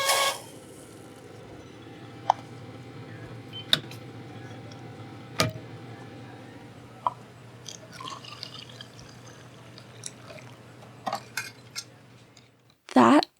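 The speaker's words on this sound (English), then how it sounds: "That is the sound of the Canadian classic, The Double Double, being made." Café clatter as a Canadian Double Double coffee is made: scattered clinks of cups and spoons, a soft background hum, and a final burst of hissing from a machine at the end.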